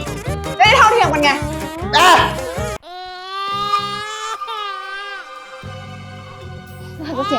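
A baby cries in strained, wavering wails inside a home, the sobbing loud and close, with an adult's voice breaking in over the first part before the crying continues alone.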